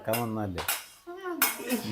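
A spatula stirs popped mustard seeds in a pan in a home kitchen, giving a few short metallic scrapes and clinks, faint and close, between loud bursts of conversation.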